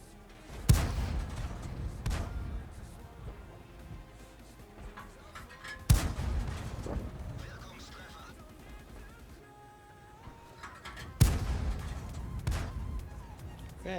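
Video game gunfire erupts as three loud booming shots spaced several seconds apart, each followed by a rumbling tail, with quieter game sounds in between.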